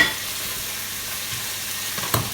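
Pork cheeks sear in a hot pan with a steady, close sizzle and frying crackle throughout, no voices, ending in a brief stir or clatter.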